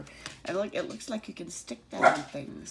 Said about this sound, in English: you heard that bark? That's our dog trying to volunteer.